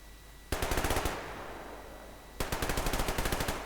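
Automatic gunfire in the shooter game Survarium comes as two loud, rapid bursts of evenly spaced shots, the first short and the second longer, over a low background hum.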